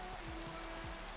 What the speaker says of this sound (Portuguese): Chuva irritante.